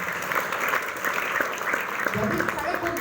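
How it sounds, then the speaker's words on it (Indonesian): A seminar audience gives a steady round of applause for someone speaker, dense clapping filling the whole moment with a few voices mixed in. "Tepuk tangan dulu untuk Bunda Nobi."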